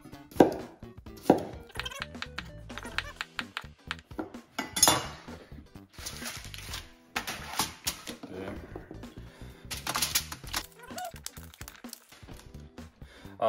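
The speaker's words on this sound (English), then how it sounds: "So we got some veggies. We're just going to slice up kind of thickish." A knife slices potatoes into thick pieces on a board, giving scattered sharp chopping knocks and light clinks of dishes beneath intermittent speech.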